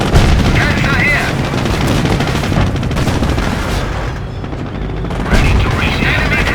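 Tank cannon fire and battle noise in the World War II strategy game Company of Heroes, set during Operation Market Garden: a dense, loud, continuous barrage of gunfire and booms that dips briefly before swelling again.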